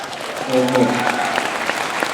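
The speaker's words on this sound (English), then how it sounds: "can we get a hand of applause" Audience applause at a Sundance Film Festival premiere Q&A, steady crowd clapping with a voice speaking over the start.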